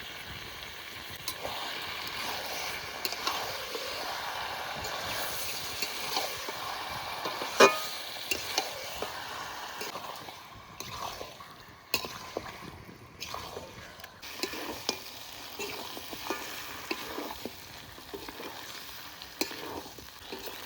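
Young goat meat cooked with spices, salt and turmeric in a kadai, frying with a steady low sizzle while a spatula scrapes and knocks against the pan in irregular strokes.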